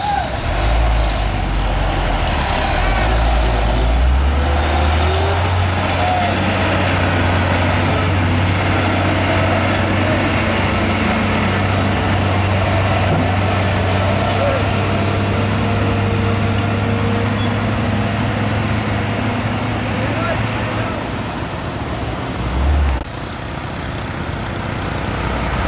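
An empty tronton flatbed truck passes close by, its loud diesel drone rising and holding for many seconds with a low engine hum, then fading near the end.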